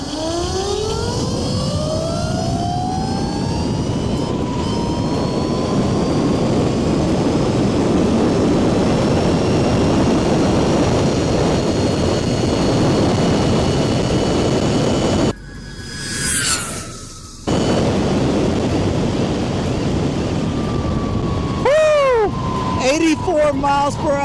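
A 25kW electric vehicle motor whines loudly as it winds up through a speed run, its pitch climbing steadily, cutting out briefly partway, then returning with another rising sweep near the end.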